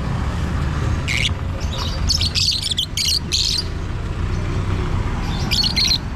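Caged birds calling in the morning, with several bursts of high chirps and tweets, some clustered and some spaced, over a steady low background hum.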